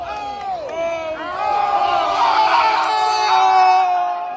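Crowd of onlookers at a New York City street fight yelling, whooping and screaming in encouragement, a sustained loud chorus of voices that swells and stays dense throughout.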